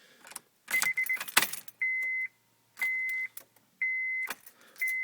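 Turning the key in a 2010 Honda Accord that will not start brings keys jangling, then repeated electronic beeping tones in regular bursts with faint clicks, and no engine cranking.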